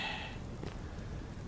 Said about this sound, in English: Going to travel in the rain.